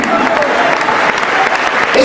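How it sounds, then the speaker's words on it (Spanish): A church congregation claps loudly in a continuous wash of applause during a Pentecostal sermon, with voices faintly mixed in beneath the clapping. "Dale un aplauso a la más sagrada del Señor,"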